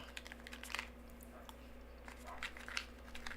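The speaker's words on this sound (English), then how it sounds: "I'm just having some trail mix." Someone snacks on trail mix, with small crunchy bites and chewing sounds coming in scattered faint bursts over a low steady hum, close by and quiet.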